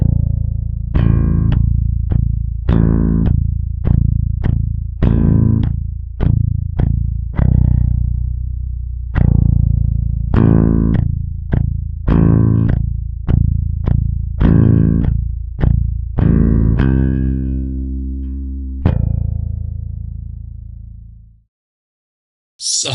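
A distorted bass guitar plays the slow main riff of a song: heavy, sustained low notes struck one by one, each ringing out and decaying before the next, loud and alone, ending on a long held note.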